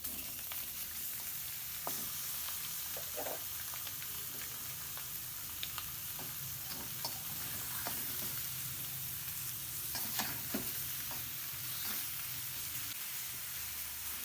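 Mutton pieces sizzling in their own rendered fat in an iron karahi for a dumba karahi, with no oil or ghee added; a steady loud frying hiss runs throughout, broken by occasional stirring scrapes and pops.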